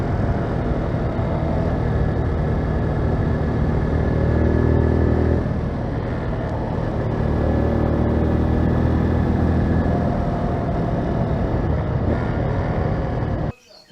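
A loud, steady engine rumble like a motorcycle running close by, droning continuously with slight swells before cutting off at the end.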